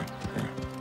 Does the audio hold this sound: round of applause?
no